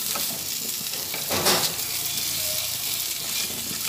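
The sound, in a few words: spices frying with turmeric in a pan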